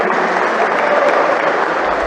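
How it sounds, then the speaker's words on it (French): Applause for a young Tananarive team at the opening ceremony of a grand open event in Majunga: a crowd claps in a dense, loud, even burst throughout. "Un applaudissement pour ces jeunes"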